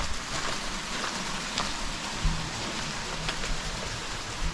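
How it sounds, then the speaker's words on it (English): Steady rain patters down in a dense, even hiss with occasional heavier drops, fairly close and continuous throughout. "We've had a lot of rain and it's raining now."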